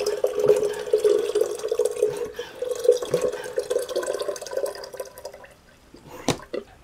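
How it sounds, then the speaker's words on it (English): Indoors, water runs from a tap into a watering can, a continuous splashing, gurgling stream close by that thins and stops near the end, followed by a brief knock. "I use it to actually fill my watering can up inside the house"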